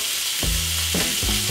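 Ground beef sautés in a frying pan with a strong, close, continuous sizzle, punctuated by a few low thumps and scrapes as the meat is moved around.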